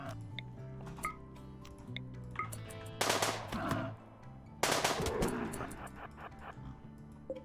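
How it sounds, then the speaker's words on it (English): Gunfire in the RimWorld video game, with dense bursts of rapid shots around the middle of the clip, set among scattered ticks and clicks of game sounds, loud and close. "And the more I shoot it, the more wounded it gets."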